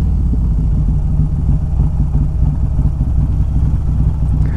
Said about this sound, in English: I start letting the engine brake right there